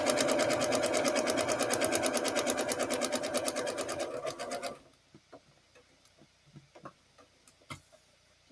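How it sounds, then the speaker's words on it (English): A sewing machine stitching through a quilt block backed with paper runs steadily for about four seconds with a rapid, even needle clatter, then stops, leaving faint handling clicks and taps. "I pivot and sew the next line."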